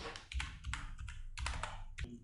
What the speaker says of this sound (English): So I'm going to type Instagram